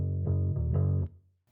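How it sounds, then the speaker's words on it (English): Bass guitar through a Guitar Rig 6 Clean Plec Bass preset with slight distortion, a short phrase of a few full, beefy low notes that rings out and fades, close and alone. "I brought in a Guitar Rig 6 from Native Instruments, and I believe this one is a Clean Plec Bass preset"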